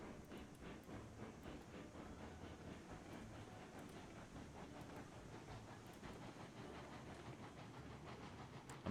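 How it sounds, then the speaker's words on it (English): A train rolls along in the Railroads Online game, a quiet, steady rumble with faint rhythmic clicking and hiss running throughout, no talk. "I'm pretty sure I'm just being pushed forward by the train right now"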